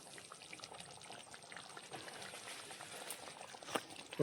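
Beef curry bubbles softly at a low simmer in a clay pot, faint and continuous, with a small clink near the end.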